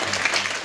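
Dense, steady applause from an audience at a Shiv Jayanti kirtan, loud and continuous for the whole short span without pause.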